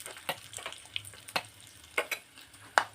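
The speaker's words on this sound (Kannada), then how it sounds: "ಇವಾಗ ಗೋಡಂಬಿ ಹಾಕ್ಕೊತಾ ಇದ್ದೀನಿ. ನೋಡಿ, ಎಷ್ಟು ಚೆನ್ನಾಗಿ ಫ್ರೈ ಆಗ್ತಾ ಇದೆ." Cashews fry in a pan for semolina laddu, heard as a quiet bed of sizzle dotted with sparse sharp pops and crackles at irregular moments.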